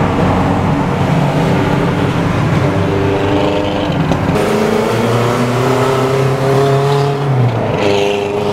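Car engine at the Daikoku parking area revving hard and accelerating, loud and close, with rising engine tones and a sustained roar throughout.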